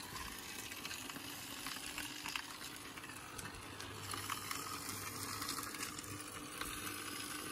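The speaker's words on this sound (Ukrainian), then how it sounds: "Бачите, там виходить вода." Water pours steadily out of the hose of a Hozelock vacuum pump, a close, continuous gushing and splashing hiss without pauses.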